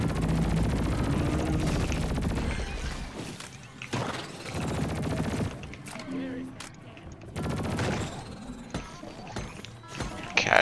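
Rapid automatic gunfire from a first-person shooter game's solo mission, bursts of shots rattling loud and continuous with brief lulls, overlaid with game effects.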